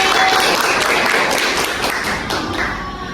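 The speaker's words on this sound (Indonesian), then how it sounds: "Tepuk tangan dulu untuk kelompok B." A classroom group claps for a student team about to present, a short burst of close, fairly loud hand claps and taps that fades slightly toward the end.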